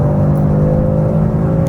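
The ABT Audi RS3 tuned to 630 hp pulls hard on the Autobahn, a loud, steady engine roar with a strong droning tone heard from inside the car, no one talking.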